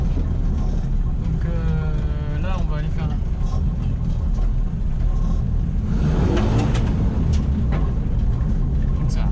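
Renault 20 Dakar rally replica with a loud exhaust, its engine droning steadily throughout and swelling as it revs near the end, with someone talking over it.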